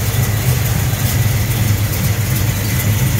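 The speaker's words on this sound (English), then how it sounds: "Nice set of hooker headers on the car as well, giving it a nice sound." A 1969 Chevrolet Chevelle SS V8 fitted with Hooker headers idles close by, a loud, steady, low rumbling burble with a slightly uneven throb and no voices.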